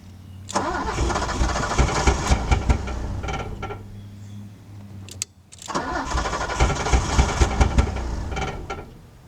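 A Buick V6 car engine cranks over repeatedly without catching, two long bursts of churning starter noise separated by a brief pause, loud and close with no voices.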